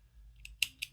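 Scissors snipping crochet yarn during amigurumi work, a couple of quick, crisp close-up snips within a second, quiet against a faint low hum.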